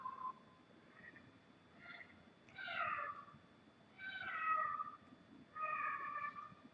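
A pet cat with separation anxiety meows several times indoors, a short faint cry followed by three longer, drawn-out wails spaced a second or two apart, quiet and slightly distant.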